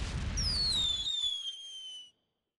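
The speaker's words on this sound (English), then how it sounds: "I heard fireworks." Fireworks in The Secret of Monkey Island: a rising whistle streaks upward, then a crackling burst fades out over about two seconds, loud and alone against a busy low background.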